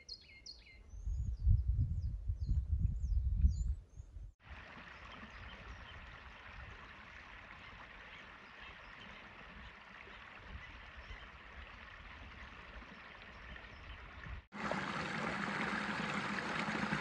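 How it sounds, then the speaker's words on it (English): Strong desert stream on the Pacific Crest Trail, a steady broad rush of flowing water heard close and continuous, after a few seconds of birds chirping over low wind rumble, then rushing louder near the end. "It's so nice to see these streams that are really strong still."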